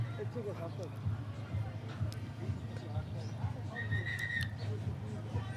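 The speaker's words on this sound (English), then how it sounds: "the short whistles from umpire" A referee at an under-19 rugby match blows a couple of short, sharp whistle blasts, heard against crowd murmur and background talk on the field.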